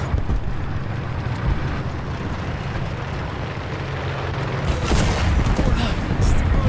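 Artillery fire rumbles continuously in the tank game War Thunder, with a sharper burst of blasts near the end over a constant low engine drone.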